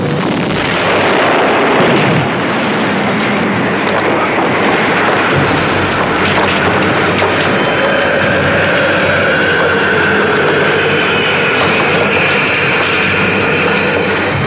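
Sci-fi television battle scene with a moonbase under attack, continuous loud roaring blasts and rumbling explosions, dense and sustained, with layered whooshing effects and no talk.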